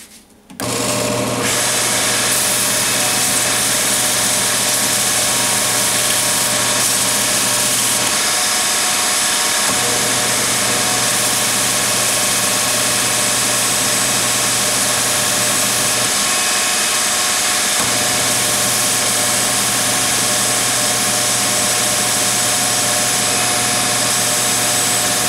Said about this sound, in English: now I'm going to sand it up. So I'm going to start with 150 and go to 320